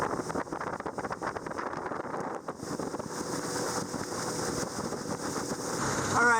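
A motorboat fitted with a hydrofoil runs at wide open throttle, about 5,000 RPM and 25 mph, its engine roar mixed with heavy wind buffeting the microphone and rushing water, steady and loud throughout.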